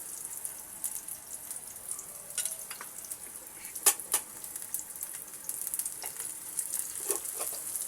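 Chopped onion and garlic sizzling in a frying pan, a steady soft crackle with scattered louder pops and spatters throughout, close and alone.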